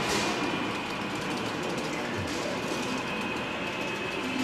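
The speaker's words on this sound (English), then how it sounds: "A pike is a model railroad layout like we're looking at." A model railroad train runs on a very large museum layout, giving a steady, continuous rolling rumble with faint rail clatter throughout, close and even, with no talk over it.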